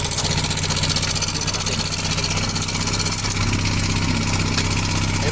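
A Yamaha Mio motorcycle with a noisy valvetrain after camshaft and rocker work idles close by, a continuous loud, rhythmic engine chug with a rattling, clattering edge throughout.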